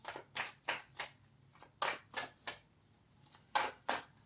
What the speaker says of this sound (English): I'm gonna shuffle them again because we've been working with them.